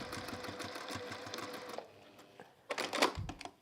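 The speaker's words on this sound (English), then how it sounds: "I'm just going to go over my stitch lines so it's neat." A sewing machine runs in a fast, even rattle of stitching for nearly two seconds, then pauses and gives a few shorter bursts with clicks, close up and moderately loud.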